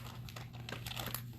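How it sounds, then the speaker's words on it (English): Fusible paper for quilting being handled, giving soft crinkling and rustling throughout, close and fairly quiet over a low steady hum. "Now I'm going to add my fusible paper"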